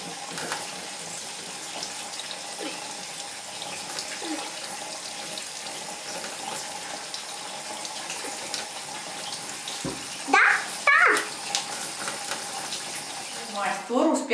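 Water runs steadily from a tap into a sink after a do-it-yourself drain installation, a soft continuous hiss of flow with a few brief clunks and splashes near the end.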